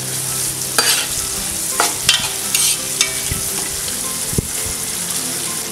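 Onions sautéing in a pan for chicken biryani, a steady close sizzle broken by several scraping stirs of a spatula, with no talking.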